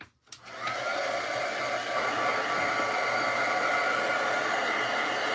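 A hair dryer starts up with a click and then blows a steady, loud whooshing roar close by, drying a decoupage craft piece without anyone talking.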